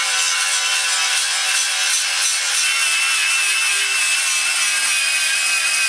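An angle grinder working over the welds on a Rapidor Major donkey saw, one loud steady high-pitched whine that holds without a break, close up and with no talking.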